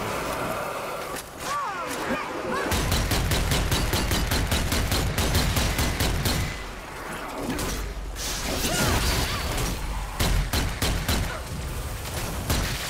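Gunfire in the zombie shooter Zombie Army 4 on hard difficulty: rapid bursts of automatic fire with crashing impacts and whooshes, loud and dense, pausing briefly before resuming, with a player talking over parts of it.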